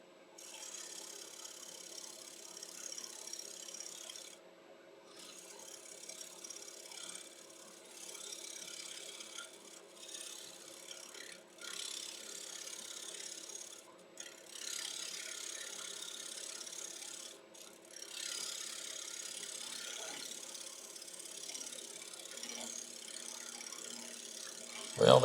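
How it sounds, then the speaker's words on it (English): A negative rake scraper cuts a wooden platter spinning on a lathe, making a steady, faint, rasping scrape with brief pauses and slight shifts in texture as the tool rides the inside corner. "Another negative rake scraper just to take that corner off the inside of where that bead was cut."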